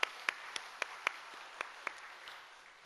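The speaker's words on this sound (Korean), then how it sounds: "우리 박수로 한번 축복하겠습니다" A small church congregation claps in sparse, distinct hand claps spaced roughly evenly, fairly quiet and close, thinning out and fading over a couple of seconds.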